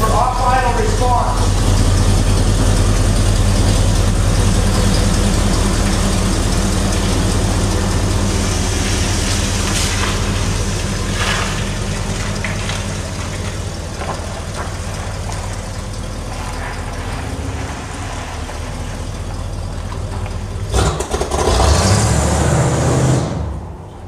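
A cold engine in an older vehicle runs loud and close with a steady low rumble, revs unevenly and stutters briefly off idle, and rises to a sharp burst near the end.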